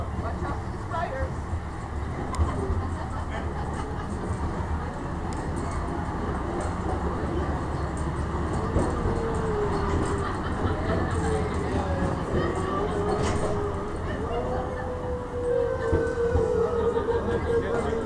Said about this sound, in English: What train is that? Is that the actual one? It's called the Grasshopper